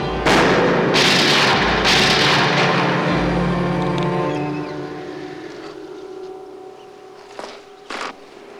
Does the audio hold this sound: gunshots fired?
yes